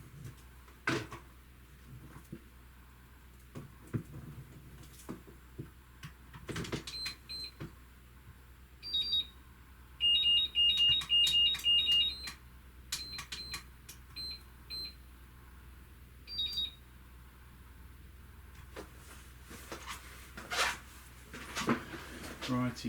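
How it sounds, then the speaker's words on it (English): A battery charger on a workbench beeps as batteries charge, giving short high electronic beeps in scattered bursts, including one quick run of several beeps. They sound amid workshop handling noises and someone talking. "I will try my best to talk over beeping batteries, charging."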